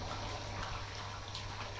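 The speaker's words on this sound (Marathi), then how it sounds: "तिकडं पाणी सोडलंय आपलं" Water gushes and splashes steadily, a continuous rushing flow with a low hum underneath, fairly faint.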